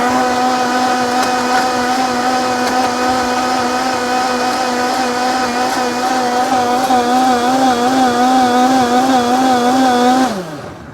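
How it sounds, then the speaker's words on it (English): A blender chopping ginger whirs loudly and steadily for about ten seconds, its motor pitch wavering a little, then winds down and stops. "Okay, I'm gonna blend this. It's gonna be noisy for 1 second."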